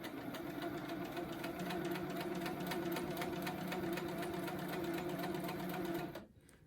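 A sewing machine doing free motion quilting with a ruler stitches in a fast, even, steady hum that runs continuously for about six seconds and then stops abruptly.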